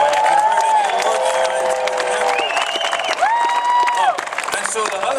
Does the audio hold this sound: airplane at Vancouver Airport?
no